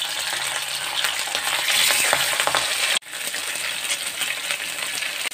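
Fish frying in hot mustard oil in a pan, a steady loud crackling sizzle that rolls on without pause, with a brief break midway before the spitting resumes.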